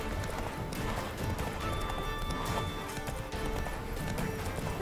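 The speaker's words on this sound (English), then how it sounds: "This horse just doesn't seem to have stamina issues." Horse galloping at full speed in The Witcher 3: Wild Hunt, a loud, steady clip-clop of hooves running continuously under dense in-game ambience, with no pauses.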